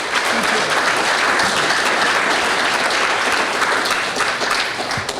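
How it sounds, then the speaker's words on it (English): Audience at an arts café poetry and music evening gives a steady, full round of applause for the soundboard operator, dense and sustained throughout with a faint murmur underneath. "How about a big round of applause for Christopher on the soundboard over there?"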